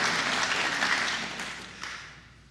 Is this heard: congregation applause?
yes